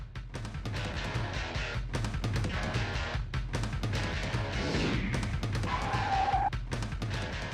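A Chevy car skids and spins out, a loud continuous rush of tire and engine noise with a brief high squeal near the end, all close and steady throughout.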